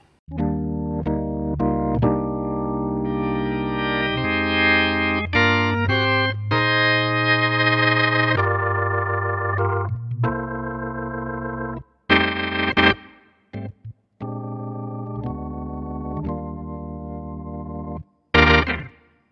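Sustained organ chords on a Dexibell Vivo S9, with an expression pedal changing the drawbar settings, shift in tone color, brightening and darkening as notes hold, ending in short stabs and a brief bright chord.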